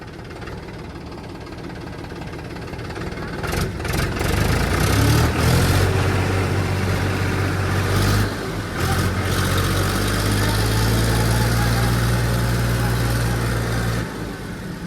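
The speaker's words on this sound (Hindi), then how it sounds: "तीसरा डाल है, तीसरा फुल एक्सीलेटर डाल।" A tractor stuck in a field on monster tyres, hauling about a ton of fertiliser, revs hard at full throttle in third gear, a loud, rough, droning engine roar that swells and dips with strained, uneven pulses.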